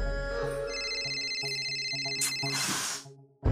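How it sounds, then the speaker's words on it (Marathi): An electronic ringtone plays a repeating melodic pattern, steady and fairly loud, then a brief burst of noise as it cuts off near the end. "यांचा फोन बी आत्ताच यायचा होता."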